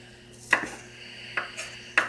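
Three sharp knife chops through green onions on a cutting board, spaced irregularly and close by, with no talk.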